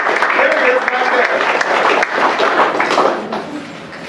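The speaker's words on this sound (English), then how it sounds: "Wow, let's give him a round of applause." Audience applause for a U.S. Air Force Vietnam veteran at a Veterans Day gathering at a health center, steady clapping filling the room for several seconds with voices mixed in, easing slightly toward the end.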